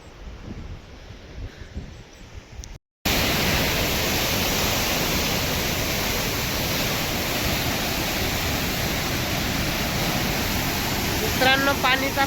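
Water rushes at Nandur Madhmeshwar dam in the monsoon season as a loud, unbroken broadband roar that cuts in abruptly after a brief quieter stretch and holds steady to the end.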